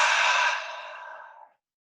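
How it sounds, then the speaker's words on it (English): A deep cleansing breath exhaled through an open mouth during a power yoga flow, a single close, breathy sigh that starts strong and tapers off over about a second and a half before silence. "Let's take a cleansing breath, full breath in."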